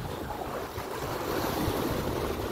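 Ocean waves wash and surge steadily along the shore at Chabahar, with wind rushing across the microphone and no voices.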